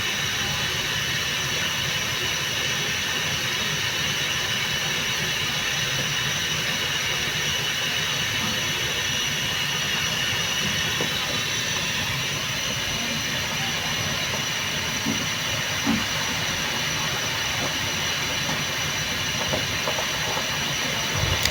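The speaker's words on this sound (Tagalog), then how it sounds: "Lakas agad ng kulo guys" Water at a rapid rolling boil in a portable camping cooker, a steady dense hiss and rumble that holds constant and fairly loud throughout with no talk over it.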